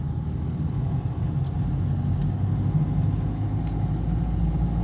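A car's engine hums steadily and close inside the cabin during a driving lesson, a low rumble that holds fairly even as the car picks up speed, with faint brief ticks above it.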